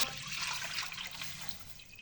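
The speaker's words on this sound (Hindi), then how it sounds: "अब मैं लूँगी तकरीबन 4 कप पानी।" Water pours into a kadai, a deep cooking pan, for chicken corn soup, making a soft, continuous splashing that fills the moment with no talk.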